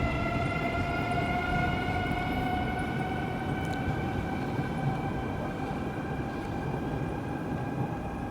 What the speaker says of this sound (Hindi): अपने समय से 1 मिनट पहले ही ट्रेन इस प्लेटफॉर्म को, इस रेलवे स्टेशन को छोड़ दी।